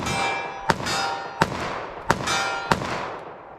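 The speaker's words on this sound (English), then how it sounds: "I was firing kind of rapidly just to kind of see how they would fire from 25 yards" .45 ACP pistol fired rapidly at a 25-yard range, four sharp loud reports spaced roughly two-thirds of a second apart, each followed by a short ringing decay over steady background noise.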